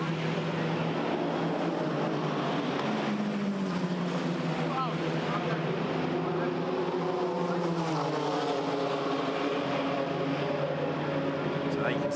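GT4 European Series race cars lapping Monza during qualifying, a steady engine drone that rises and falls in pitch as cars pass, continuous and fairly loud with a commentator talking over it.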